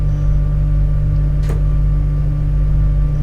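A Class 86 electric locomotive's tap changer in Train Simulator gives a single sharp click midway through a steady, loud, low electrical hum that drones on unchanged.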